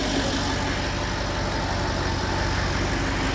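Audi R8 engine idling after repair, a steady even rumble close to the car that holds at constant loudness throughout, smooth with no revving and no voices.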